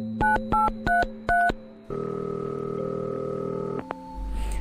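A kitchen telephone dials through to a hotel restaurant: four quick keypad beeps, then a long steady tone that ends in a click.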